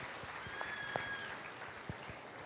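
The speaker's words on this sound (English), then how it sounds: "Give them a good round of applause, if you would, as we start." Soft, steady applause from the crowd at a Colorado State Fair market beef showmanship class, heard at a distance, with a few faint clanks and thumps from the arena.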